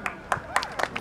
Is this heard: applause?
yes